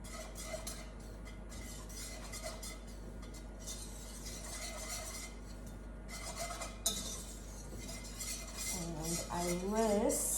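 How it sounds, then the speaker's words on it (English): A whisk clinks and scrapes steadily against a pan as flour and butter are worked into a roux, a busy run of metallic stirring; a voice is faintly audible near the end. "add in the flour to then give me a roux, which is basically a flour and butter mixture. And I use a whisk."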